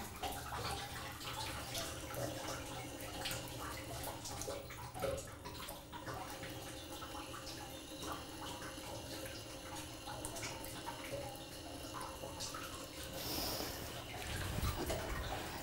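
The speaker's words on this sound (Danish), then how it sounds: "Så kommer noget vand." Water begins to flow at an archaeological dig beside a motorway near Herning, a steady rushing and trickling wash with scattered drips and clatter, continuous and moderately close throughout.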